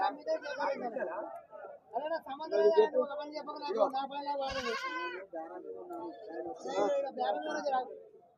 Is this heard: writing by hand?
no